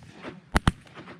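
Two quick shotgun blasts ring out during a pothole mallard duck hunt in Alberta, sharp and close, fired in rapid succession over low outdoor background noise.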